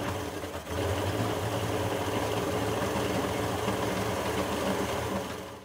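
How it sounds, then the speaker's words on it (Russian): A rebuilt Tohatsu 50 two-stroke outboard motor runs on a 1:25 fuel-oil mix while its carburetors are adjusted, a steady close, loud buzzing drone that settles in after a brief dip near the start and holds without pause. "Запускаем мотор на смеси 1 к 25."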